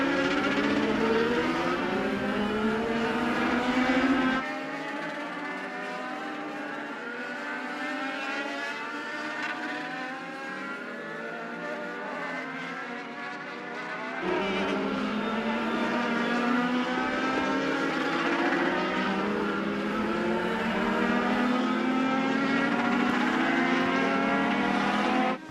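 A Legends race car rumbles around Charlotte Motor Speedway at night, its engine a loud sustained drone with rising and falling pitch sweeps, heard close and continuous, and a second car's engine briefly layering in.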